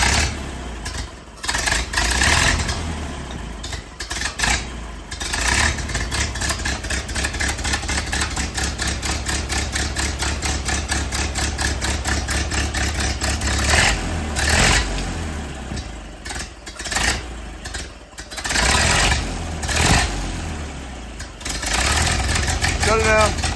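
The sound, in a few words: 1929 Ford Model A hot rod engine running cold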